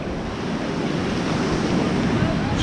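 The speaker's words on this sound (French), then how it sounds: "une petite session océan avec des vagues qui sont pas des vagues" Small ocean waves wash continuously along a shore, a broad, steady rushing surf mixed with wind buffeting the microphone, fairly loud with no pause throughout.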